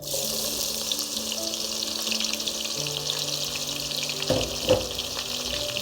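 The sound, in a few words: onions frying in oil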